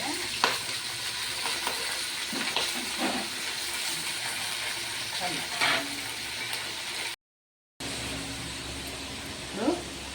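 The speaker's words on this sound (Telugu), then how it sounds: "ఇప్పుడు చికెన్ వేయాలి. నీట్గా కలుపుకొని పెట్టుకోవాలి" Chicken pieces tossed into a hot frying pan hiss and crackle steadily while a spatula scrapes and stirs at irregular intervals. The sound breaks off briefly for a moment of silence, then the sizzle resumes with another stir.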